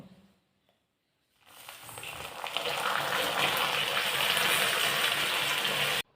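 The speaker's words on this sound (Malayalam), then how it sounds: "ഇതിൽ ഒരു പാത്രം വെള്ളമാണ് അത് ഒഴിക്കാൻ പോവാണ്" Water from a vessel is tipped into a pot while making plum cake. After a brief quiet start, a loud, close gush of pouring liquid rises and holds steady for several seconds, then stops abruptly.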